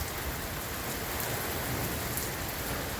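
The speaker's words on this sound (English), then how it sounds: "all it is just rain, dude. Lots of rain." Heavy rain pours down and blows into an open garage, a loud, constant roar of drops drumming on surfaces with no break and no voices.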